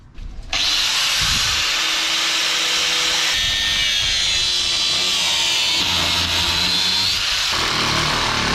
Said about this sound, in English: now while the grinders are out, we're going to do the clearing work that we need to on that front bar and the inner guard